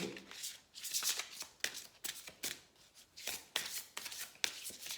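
Oracle cards riffled and shuffled by hand in a quiet room, a steady run of soft papery swishes and flicks in uneven bursts, close and fairly quiet, with no talking.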